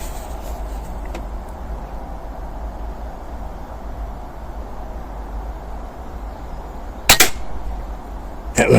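A cheap UX Iconix sub-12 air rifle fires a pellet outdoors, one sharp close crack standing out near the end over a steady low background hum and wind.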